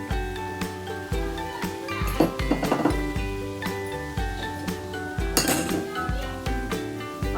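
Metal spoon clinks and scrapes against a bowl while chilli powder is mixed into chicken pachadi, a steady run of close, bright taps and clatters with no talk.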